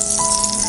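Aloo puff patties fry in hot oil, giving a brief, steady, close sizzle with fine crackling and no talk.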